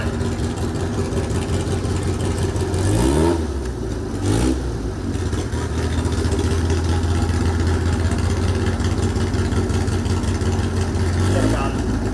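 An old air-cooled Volkswagen and a liquid-cooled all-wheel-drive Audi idling at a drag strip starting line, a steady low engine rumble with a couple of brief revs, under a loud outdoor background.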